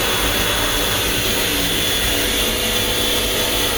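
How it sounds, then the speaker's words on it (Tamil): A hair dryer in the bathroom of a Madurai–Bangalore Vande Bharat Express train blows with a steady, loud, close whir that holds unchanged throughout, with no talk over it. "உள்ளே வந்து பார்த்தீங்கன்னா ஹேர் ட்ரையர் ஒன்று கொடுத்துருக்காங்க"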